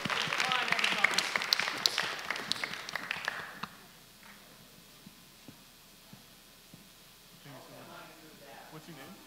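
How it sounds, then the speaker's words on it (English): Audience at a conference breakout session applauding a volunteer, a loud burst of many hands clapping for about four seconds that quickly dies away, leaving a few faint taps and a quiet room with soft murmuring. "Round of applause for our brave volunteer."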